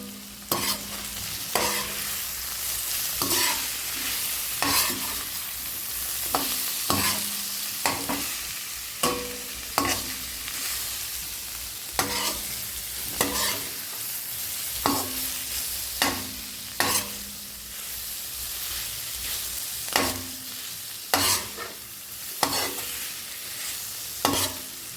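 Cauliflower frying with chilli powder in a pan sizzles steadily while a spoon scrapes and stirs it in repeated sharp strokes, close and loud throughout, with no talking.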